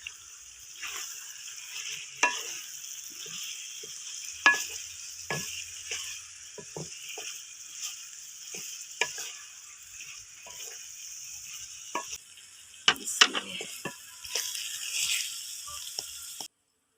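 Drumstick pods (sohanjna) go into a pan for a village-style potato curry and get stirred: a continuous soft sizzle punctuated by repeated sharp scrapes and clicks of a spoon against the pan.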